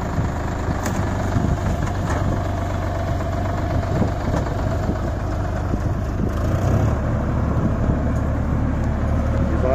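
A tractor-driven sugarcane planter machine runs in a field, giving a steady loud engine drone with a knocking, idling rumble that continues evenly throughout.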